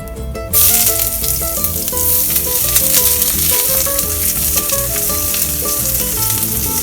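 Potatoes and onions fry in a pan over a wood fire on a ranch, cooking a Mexican breakfast. A loud, steady sizzle runs throughout under bright, shifting tones, with no talk.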